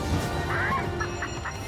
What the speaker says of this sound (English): it was a chicken doing all the weird noises